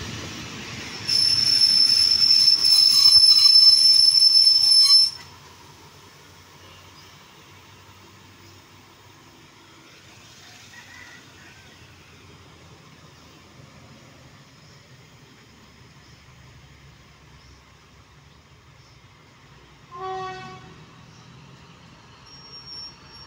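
An Alsthom 4419 locomotive hauling train 260 gives a loud, sharp, high wheel squeal for about four seconds. Quiet rolling rumble follows, then a short metallic squeal and clatter near the end.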